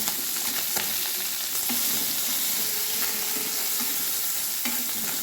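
Puti fish fry in a pan over a medium gas flame with a steady, close hiss of sizzling oil that runs unbroken, with no one talking.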